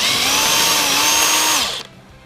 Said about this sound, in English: There's a bolt on the back you need to get hold of, and then you can undo these nuts.